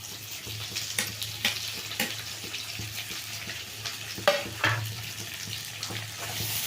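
Curry leaves fry in hot oil in a pan, giving a soft, steady sizzle with scattered crackles and pops, a brief louder burst near the middle, and no talking.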